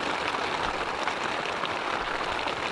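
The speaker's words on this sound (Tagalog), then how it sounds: "biglang bumuhos, yung malakas na ulan" Heavy rain pours down on a tent that isn't waterproof during a solo moto camping trip at Camp Ragsak. The roar is dense and steady and fills the whole clip, with no talking.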